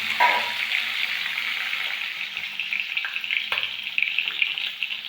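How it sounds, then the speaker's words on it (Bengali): Tangra fish frying in hot oil under a lid, a steady dense sizzle with crackling spits and pops throughout, loud and close, no voices. "ট্যাংরা মাছ ভাজার সময় প্রচণ্ড তেল ছিটে, তাই মাছটা আমি ঢাকা দিয়ে ভাজবো"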